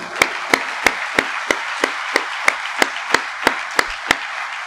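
A church congregation at a Sunday worship service claps in a steady, even rhythm of about three sharp claps per second, over a continuous crowd wash. No speech is heard.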